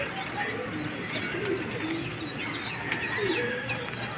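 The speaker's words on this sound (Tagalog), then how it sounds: "papasok na yan mga kalapatids" Racing pigeons arrive at the loft from a 126 km race from Unisan, Quezon, with soft cooing and wing sounds over a steady outdoor background.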